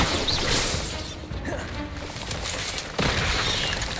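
In Hogwarts Legacy, a Bombarda spell explosion sounds as a booming blast near the start and another sharp crash toward the end, set among heavy crackling combat noise with a voice calling out spells.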